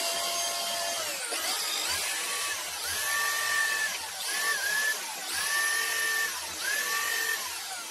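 A drill held in a homemade magnetic drill stand bores into metal on a lathe being rebuilt, its motor whining steadily with repeated rising pitch sweeps as each cut bites and eases, loud and close with no talking.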